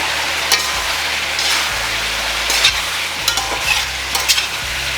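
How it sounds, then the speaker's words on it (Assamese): Ginger and garlic fry in a pan with a loud, constant close sizzle. Occasional scraping stirs and light clatter rise over it, with no voices. "এতিয়া লগাম মই কিবা আদা ৰচুন, সেইখিনি লগাই পিনি অলপ সময় ভাজিলোঁ।"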